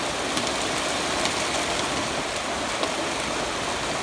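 Rain drums on a truck roof as a dense, steady hiss of countless drops, loud and close with faint scattered pings, continuous and without talk.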